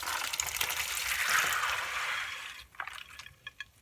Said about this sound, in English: I'm going to pour the beans in.